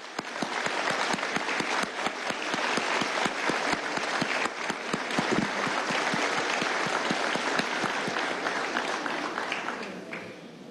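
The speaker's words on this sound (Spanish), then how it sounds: "A todos ellos les pido, por favor, de parte de ustedes un aplauso." Sustained applause from an audience at a National Assembly of Venezuela session for Independence Day, dense steady clapping from many hands filling the room for about ten seconds without pause.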